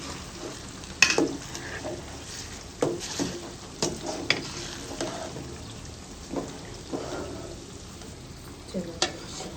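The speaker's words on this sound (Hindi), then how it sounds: "ये चिकन फ्राई करके ना कढ़ाई में डाल दो" Chicken frying in a kadai for a village-style chicken pulao, a steady close sizzle with intermittent scraping stirs and clinks of a utensil against the pan.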